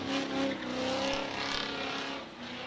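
Supercharged 6.0 drift car at a drift and stunt show, its engine roaring loud and close with tire squeal as it slides, a sustained growl rising and falling over a few seconds.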